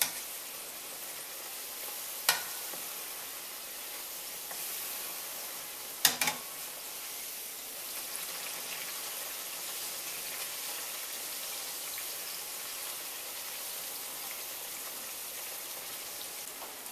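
Tortillas fry in oil in a pan with a steady, close hiss of sizzling, broken by a few brief clicks and knocks of handling.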